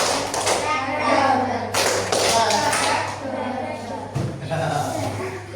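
Schoolchildren in a classroom clap out a 3-1-2 rhythm pattern: bursts of sharp group claps separated by short pauses, mixed with children's voices and background chatter.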